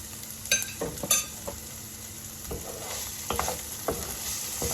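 Crunchy potatoes being stirred in a frying pan, with repeated scraping strokes and soft clinks over a steady low sizzle of hot oil, close and alone.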